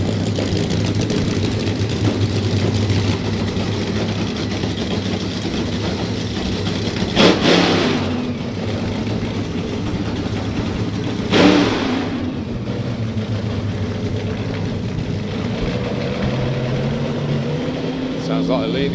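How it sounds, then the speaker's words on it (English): A drag racing car's engine runs steadily at Santa Pod with no throttle response, a constant droning idle with a couple of brief louder bursts, heard amid event crowd noise. "Engine sounds superb"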